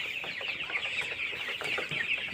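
A group of one-month-old tiger chickens on a farm in Anwara, Chattogram, cluck and peep in busy, overlapping bursts, close by and fairly soft.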